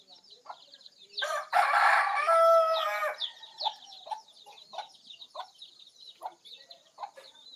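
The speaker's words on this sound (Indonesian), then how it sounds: "Ayam jantan." A village rooster crows once, loud and close, a long drawn-out call standing alone, followed by smaller birds chirping in the background.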